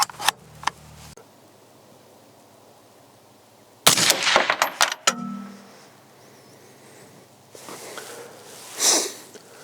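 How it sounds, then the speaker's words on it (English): Suppressed shots from a 22 ARC AR-style rifle firing Hornady Black 75 grain ELD Match rounds at a range, with sharp cracks close by, a clustered burst midway and fainter sounds between them. "I just loaded up 3 rounds of the Hornady Black 75 grain ELD match."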